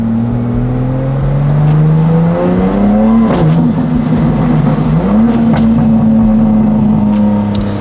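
A BMW G87 M2 fitted with titanium intakes revs loudly and close by, its engine note climbing steadily, dipping, then holding at a high, even drone. No voices are heard.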